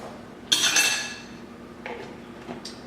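A spoon scrapes and clinks against a cooking pot while bottled garlic is added for a roast with vegetables, one sharp metallic knock followed by a few lighter taps, close and fairly quiet.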